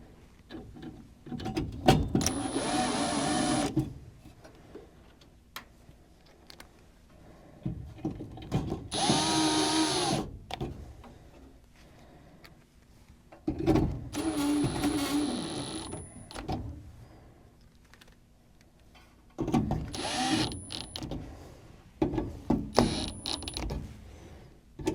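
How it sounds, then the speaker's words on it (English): A powered driver sets screws back into a Goodman furnace during a blower change, giving four or five whirring bursts a few seconds each with quieter handling noise between them, close and fairly loud. "And put the screws back in."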